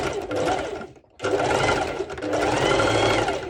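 A Singer heavy-duty sewing machine stitches over thick layers of bikini fabric, a close, loud mechanical whir in two runs split by a brief pause.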